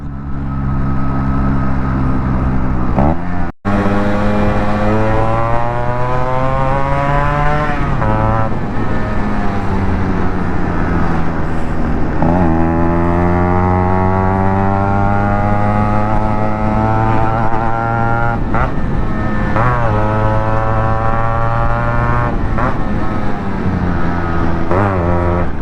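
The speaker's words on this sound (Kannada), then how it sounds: "ಬಾಯ್ಸ್ಗೆ ಒಂದ್ಸರಿ ಹಿಂಗೆ ರೈಸ್ ಮಾಡಿದ್ರೆ ಸಾಕು," Yamaha RXZ two-stroke motorcycle engine revs hard and close, its pitch climbing and falling through repeated throttle blips over a steady loud drone, with no talk over it.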